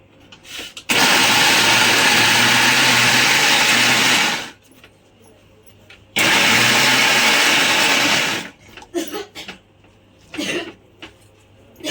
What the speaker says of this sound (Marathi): आता हे राहिलेले आपल्याला वाटून घ्यायचे आहेत.